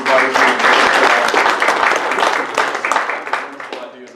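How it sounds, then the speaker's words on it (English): A room of listeners at a University of Kentucky group presentation claps in a full round of applause that swells early, stays strong, then thins toward scattered claps at the end. "I'd like to give another round of applause to all the groups that presented before"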